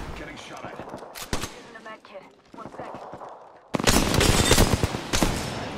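Gunfire in Apex Legends crackles in short bursts of shots, then swells into a loud, sustained rapid stream of automatic fire near the end, with players talking over parts of it.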